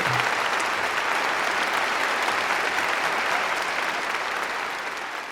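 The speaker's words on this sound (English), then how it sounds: "You get a round of applause for that one." A round of applause sound effect played on a podcast, dense crowd clapping holding steady and then gradually fading toward the end.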